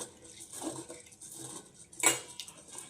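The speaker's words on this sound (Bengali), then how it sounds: "এবার ডালটা খুব ভালোভাবে 2-3 বার জল পাল্টিয়ে পাল্টিয়ে ধুয়ে নেব।" Red lentils being washed in water in a pot: soft, intermittent clinks and swishes of a utensil against the pot, with one sharper metallic knock near the end, all fairly quiet.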